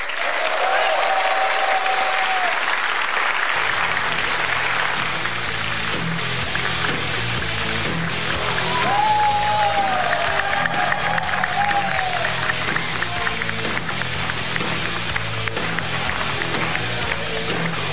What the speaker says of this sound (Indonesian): Boleh tepuk tangan sekali lagi dong Pak Jokowi